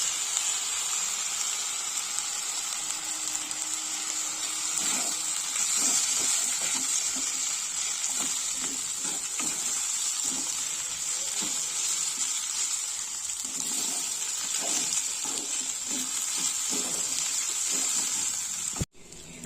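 Veg chowmein stir-fried in a pan right after vinegar and soy sauce go in, a steady sizzle with repeated scraping and tossing strokes of a spatula through most of the stretch, close and fairly even.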